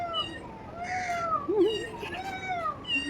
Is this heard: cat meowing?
yes